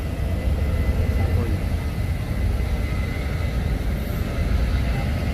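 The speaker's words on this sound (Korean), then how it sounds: "자 이륙 합니다" An airplane takes off at Jeju Airport, a loud steady low jet roar heard from the terminal observation deck, with someone talking over it.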